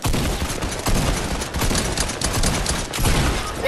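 Loud, continuous automatic gunfire in a video game fills the whole stretch in dense, rapid bursts, close and alone with no talk.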